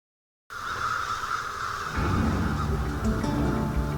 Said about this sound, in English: Crows are found on every continent except Antarctica.